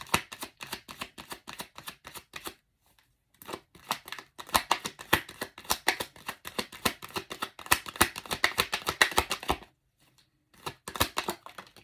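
Tarot cards are shuffled and drawn, giving dense bursts of crisp, rapid card riffles and slaps at close range, broken by two brief pauses.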